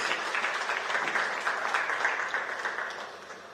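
A seated audience at an official gathering applauds a minister, dense steady clapping from a crowd that holds for a few seconds and then begins to fade.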